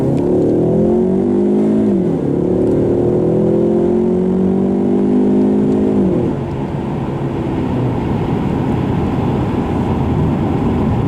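A 2015 Ford Mustang EcoBoost four-cylinder turbo engine revs hard accelerating in first gear from 25 in sport mode, its droning pitch rising steadily before a paddle-shifted gear change, then continuing loud and close.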